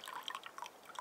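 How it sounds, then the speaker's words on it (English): Water drips steadily from a camping water filter outdoors in the wilderness, a quiet, rapid patter of small drops landing close by. "so this will be a good camping water filter, and Kyle can use it too."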